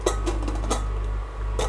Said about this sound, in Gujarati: હવે લીડ બંધ કરીને